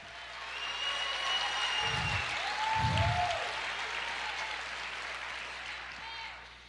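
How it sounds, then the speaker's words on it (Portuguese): Church congregation applauding during a sermon, a broad, steady wash of clapping with low thumps and voices calling out over it, tapering near the end. "Aplauda o Senhor, diga aleluia, eu creio."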